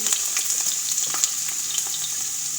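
Carrots sizzling in hot butter in a pan, a steady bright frying hiss with small crackles and pops throughout, close and clear.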